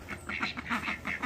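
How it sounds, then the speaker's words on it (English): Ducks quack repeatedly in short, rhythmic calls at close range; the flock includes a green-headed male and a louder brown female being kept for breeding and eggs. "They're the ones that quack, that you teach your kids and learn in school"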